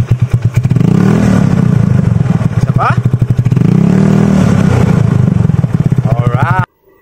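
A Mio Sporty motorcycle fitted with a Yoshimura Tri-Oval muffler and no silencer revs loudly up close, its rapid pulsing exhaust rising and falling twice before cutting off abruptly, with someone talking over it.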